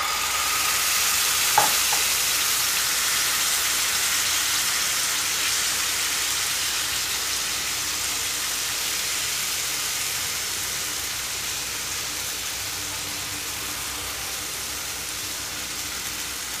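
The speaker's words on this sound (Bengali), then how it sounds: "উল্টো দিকটা ভাজা হওয়া পর্যন্ত ওয়েট করবো, 2-3 মিনিট সময় লাগবে।" Sabudana (tapioca sago) pancake frying in a pan, a steady, even sizzle that holds at a constant level throughout, close by and with no talk.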